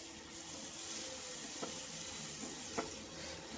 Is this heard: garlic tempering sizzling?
yes